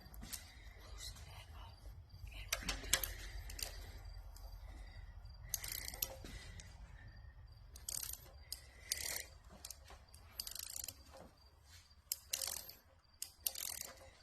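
A ratchet turns over a 454 big block Chevy engine in a series of quick clicking bursts separated by short pauses, close and moderately loud over low workshop rumble.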